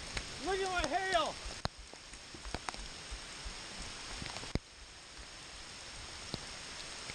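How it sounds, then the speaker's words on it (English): Scattered sharp ticks and taps of hailstones strike a surface during a Michigan storm, sparse and irregular, after a voice briefly calls out at the start. "Look at my hail."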